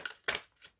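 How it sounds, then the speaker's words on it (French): An oracle card deck is cut by hand, giving two or three quick, close papery snaps and slides within under a second. "Alors, on va commencer avec une coupe."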